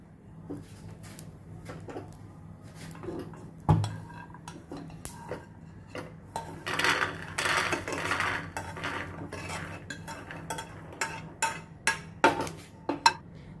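Roasted peanuts rattle into a bowl up close, with scraping and metallic clinks from a spoon and pan.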